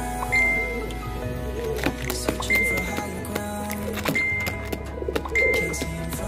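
Pigeons coo in soft repeated phrases close by, with light metallic clinks and a steady low background hum running underneath.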